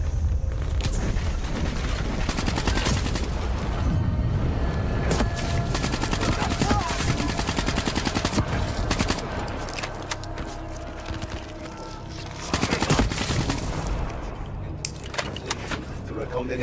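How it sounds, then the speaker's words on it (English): Black Ops 3 gunfire in a World War 2 scenario mode: dense, continuous bursts of shots and battlefield noise fill the whole stretch, with speech mixed in over the din. "Guys, stop shooting at me, will you?"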